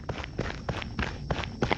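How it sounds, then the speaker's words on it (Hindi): Footsteps in the horror video game Akai Onna, a steady run of about six thudding steps in even rhythm, close and clear with no talking. "किसी के पैरों की आवाज आ रही है मेरे को"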